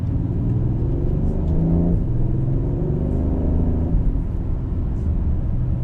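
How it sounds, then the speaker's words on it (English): A BMW M760i's V12 engine rumbles deeply and steadily at close range, swelling briefly as it revs, then settling back to a smooth low growl. "Listen to how this V12 sounds."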